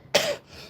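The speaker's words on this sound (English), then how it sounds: "since I started smoking, it's making me cough like that" A single harsh cough from someone smoking raw tobacco, one sharp loud burst that trails off into a breathy rasp, close and alone with no talk.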